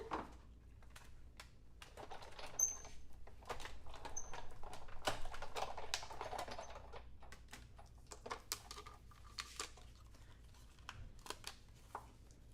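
A die cut machine runs paper through with a close series of dry clicks and crisp ticks, busiest in the middle stretch and thinning toward the end.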